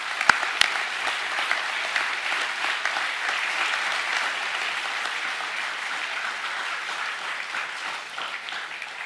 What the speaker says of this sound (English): Can we give all the award winners a round of applause